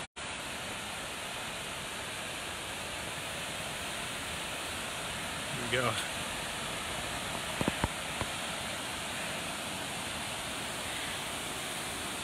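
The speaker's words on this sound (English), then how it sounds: "Hopefully you can hear the water." Steady broadband rush of a waterfall on a hike near Hsipaw, constant and enveloping throughout, with a few brief knocks and a short spoken phrase partway through.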